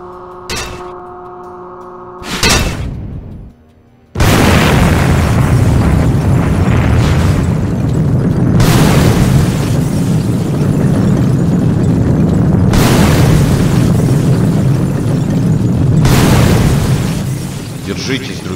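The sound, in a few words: explosion in FNAF SFM animation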